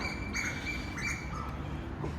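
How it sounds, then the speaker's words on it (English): Several birds in Bangkok, Thailand call at once, high thin chirps and whistles of different kinds repeating over a soft outdoor hum, fairly faint and distant. "Listen to the birds, some different bird calls."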